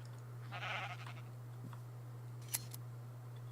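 A sheep in a modded Minecraft game bleats once, a short wavering cry set in a quiet pen, followed moments later by a couple of faint sharp clicks over a steady low hum.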